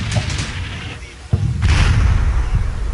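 Gunfire and explosions destroy a tank in a video game set in a 2009 urban battle in Homs: a sharp blast about midway, then a sustained rumbling barrage of booms, loud and close throughout.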